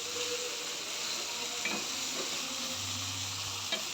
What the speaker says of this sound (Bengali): এটা আমি ভালোভাবে মশলার সাথে মিশিয়ে নেব।